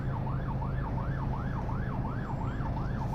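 Loud ambulance siren cycling quickly up and down, continuous and near, with traffic rumble underneath, heard from a car driving through Honiara.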